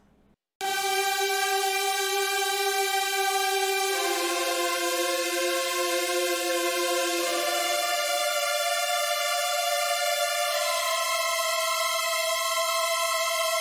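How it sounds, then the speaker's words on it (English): Bright, sustained chords from two layered saw-wave synths washed in heavy reverb, changing harmony every few seconds, loud and steady with no voices. "I added two layers of very, very reverb-y saws"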